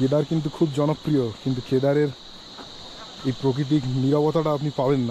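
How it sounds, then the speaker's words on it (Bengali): Crickets chirp in a steady, high, continuous drone along the Madmaheshwar mountain trek, while someone speaks clearly over them in the foreground. "ঝিঝি পোকার ডাক শুনুন"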